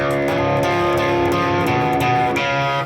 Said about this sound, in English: on the very last cycle you want to kick the distortion in